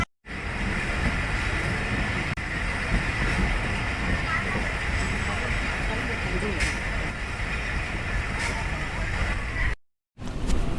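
A train at Phultala railway junction in Bangladesh on a rainy day gives a steady, loud rolling rumble that fills almost the whole stretch, broken by a brief gap near the end, with faint background voices.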